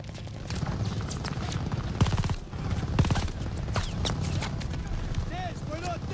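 Battlefield gunfire aimed at tanks in Call of Duty Vanguard on PS5, dense rattling volleys with sharp louder shots standing out, mixed under people talking.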